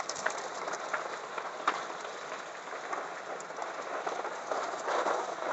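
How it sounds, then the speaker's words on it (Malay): Heavy rain pours steadily in a continuous, dense hiss with scattered louder drops striking surfaces, moderately loud and unbroken, with no speech. "Okey, hujan dah lebat."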